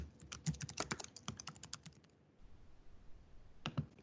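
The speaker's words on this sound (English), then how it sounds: "all you need to do is start typing" Typing on a computer keyboard: quick, uneven bursts of soft key clicks, close and fairly quiet, pausing briefly before a final few taps, with no voices.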